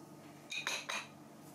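A spoon clinks against a bowl while orange juice is stirred into a vinaigrette dressing, three quick metallic taps close by and fairly quiet.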